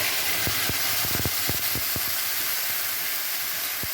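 Ground spice paste hits hot oil in a pan for a Bengali dum aloo with coriander and green chili, giving a steady loud sizzle and hiss broken by several sharp crackles and spits.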